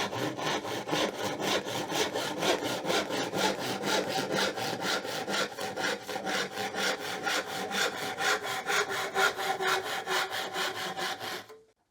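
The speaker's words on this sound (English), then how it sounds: "any chance that you're cross-cutting or doing any hand sawing" A hand saw cross-cuts a piece of wood in steady, evenly paced back-and-forth strokes, close and loud, about three strokes a second, ending abruptly as the cut finishes; no voices.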